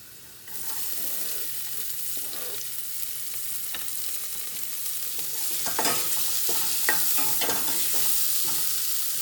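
Onions sizzling in hot oil with potatoes while being stirred for poha, a steady close frying hiss with occasional scrapes and clinks of the spoon, no talking.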